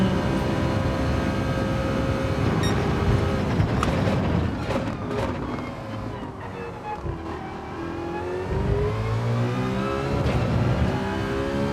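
Renault Megane race car driven in Gran Turismo 7, a loud engine rising and falling through revs and gear changes, close and continuous, with a brief dip before accelerating again.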